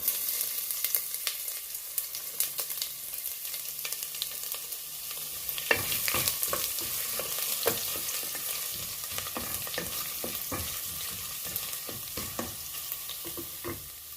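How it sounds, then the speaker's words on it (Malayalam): Ginger sizzles and fries in hot oil in a pan, following curry leaves, while cooking a chickpea curry. The bubbling hiss is steady and close, broken by sharper crackles and pops and occasional stirring, with no talk. "ഇഞ്ചി ഇട്ട് കൊടുക്കാം."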